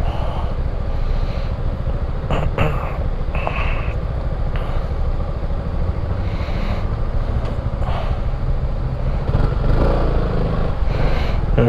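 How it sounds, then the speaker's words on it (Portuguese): A motorcycle being ridden, its engine droning steadily up close under heavy wind rush, with brief knocks and a slight swell near the end. "Nossa, como o pneu deixa a moto bem mais macia pra andar."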